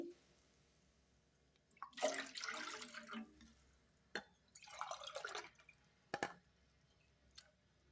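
Water from a glass poured into a kadai pan for making rava vadas, in two separate pours of a couple of seconds each, with a few short clinks between and after.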